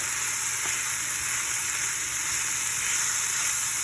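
Cinnamon and paprika frying in a pan for a warm quinoa salad: a loud, steady hiss of sizzling oil fills the whole stretch, with only faint hints of stirring underneath and no speech.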